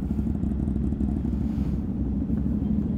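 Boss Dante's motorcycle exhaust gives off a loud, close, steady low rumble with a choppy, pulsing throb, heard alone with no talk over it.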